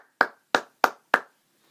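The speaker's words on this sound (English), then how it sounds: "let's give them a round of applause" Four evenly spaced hand claps ring out, crisp and close, with near silence between them, rather than a crowd's applause. They were offered as applause for the Alabama Crimson Tide.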